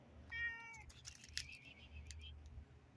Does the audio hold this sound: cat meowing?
yes